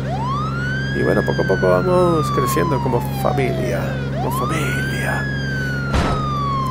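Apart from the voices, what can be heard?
siren from the video game State of Decay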